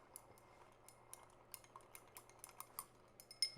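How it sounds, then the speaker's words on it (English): A mixture being stirred in a container, producing faint quiet clinks and ticks in an irregular run, with a slightly louder clatter near the end. "Let me give this a quick little stir"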